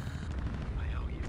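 Gunfire during a firefight in the video game Alien Invasion, a low, rumbling burst of shots heard quietly in the background with a faint whistling tone sweeping across it.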